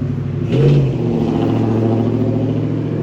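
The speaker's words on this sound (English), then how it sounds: "It is a 12-valve Cummins turbo diesel with a stock turbo, stock everything" A 1996 Dodge 2500 pickup with a stock 12-valve Cummins turbo diesel gives one short, loud rev near the start, then settles back into a steady, rumbling idle.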